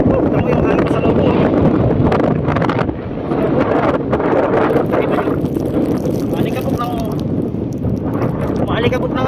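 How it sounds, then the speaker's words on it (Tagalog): Strong, continuous wind buffets the microphone on an overcast, sandy beach, a loud steady roar with gusty swells throughout, while a person talks faintly underneath. "Ang ganda ng panahon pero makulimlim at mahangin"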